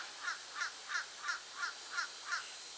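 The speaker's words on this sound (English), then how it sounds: "Bird in the tree's freaking out." A bird squawks in a rapid, evenly spaced series of seven harsh calls, fairly close, against a quiet background.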